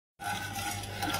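A sweet, sour and spicy sauce thickened with cornflour cooks on a stove while a spoon stirs it, giving a short, steady scraping and soft bubbling after a moment of silence.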